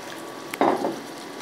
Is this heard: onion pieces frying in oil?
yes